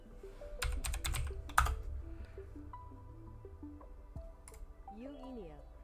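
Quick bursts of typing on a computer keyboard during a tarot-themed game, close clicking clusters over game music and tones, with a voice speaking.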